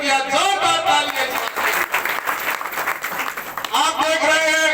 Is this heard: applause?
yes